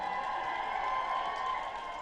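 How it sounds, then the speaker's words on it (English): A live audience at an Avon Connect beauty event cheers and applauds, a steady wash of crowd noise held at moderate loudness throughout. "Can I hear a big cheer in the audience?"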